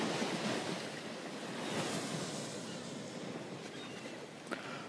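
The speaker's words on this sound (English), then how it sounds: "Here comes a big wave." Ocean surf at a beach where a child is building a sandcastle, a big wave rolling in as a steady broad wash of water with wind over the microphone, fairly loud and continuous with no talking.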